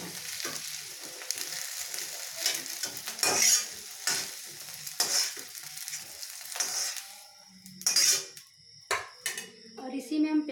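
Okra (bhindi) sizzles as it fries in hot oil while a utensil stirs it with repeated scraping strokes. The sound is close and moderately loud, with a brief pause and a few clinks near the end.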